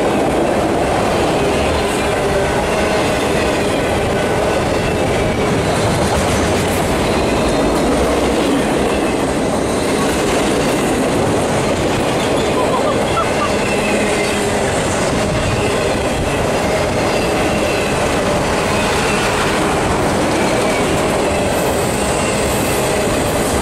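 Norfolk Southern freight locomotives, an NS high hood and NS #4002 DC-to-AC conversion unit, pass together with CSX #7813, rumbling steadily with clattering wheels and faint squeals throughout, loud and continuous.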